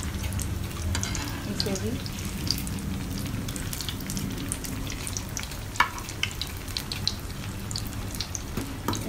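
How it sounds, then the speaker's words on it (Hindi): Chicken Russian cutlets fry in hot oil with a continuous close sizzle, dotted with sharp pops and crackles. Someone speaks briefly over the frying. "हमें इसे गोल्डन कलर आने तक फ्राई करना है।"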